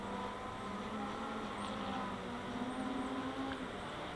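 A DJI Phantom 4 drone flying full forward in sport mode produces a steady, high-pitched whirring motor whine with a wind-blown roar, moderately distant and continuous.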